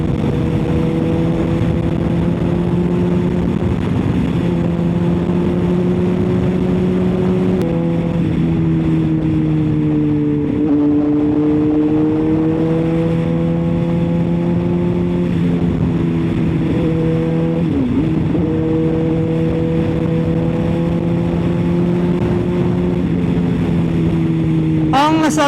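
A 2006 Honda CBR600RR sports motorcycle engine runs steadily up close, its droning tone rising and falling slightly as the throttle shifts, continuous throughout.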